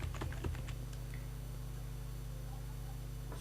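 Rapid clusters of keystrokes clatter on a computer keyboard while a command is entered, followed by a quiet stretch over a low steady electrical hum.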